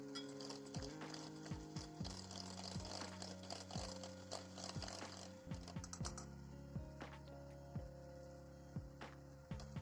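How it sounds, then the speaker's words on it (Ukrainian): Butter cream being whipped with a mixer, cream added a spoonful at a time: a continuous whirring motor drone with shifting pitch and frequent clicks and clatters of beaters against the bowl, no speech. "По одній столовій ложці додаємо крему та ретельно збиваємо після кожної."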